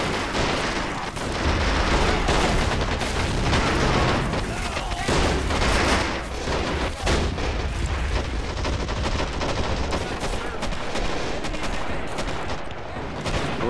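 Gunfire and grenade blasts on Omaha Beach in the video game Men of War Assault Squad 2 make a dense, continuous roar of rattling shots and booms, loud throughout with a voice speaking at points.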